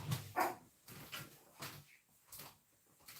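Dogs bark in a home kitchen: a run of short, sharp barks spaced about half a second apart, moderately close, with faint knocks and clatter between them.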